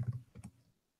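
A few quick, faint clicks of keys on a computer keyboard, a short burst of typing that fades to silence within a second.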